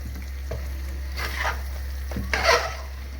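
Mutton Moglai masala cooking in a pan over low heat, a soft sizzle under a steady low hum, with two brief bursts of stirring and scraping.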